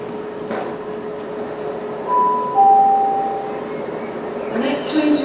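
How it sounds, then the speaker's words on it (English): A passenger train rolls into a station platform with a low rumble, a drawn-out whine of brakes, and a hiss as it slows to a stop, moderately close. "Here comes my train."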